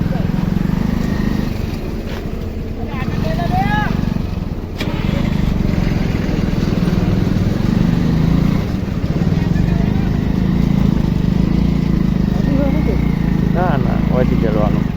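A motorcycle engine idles and revs steadily close by, with a loud continuous low rumble through the whole stretch while people talk over it.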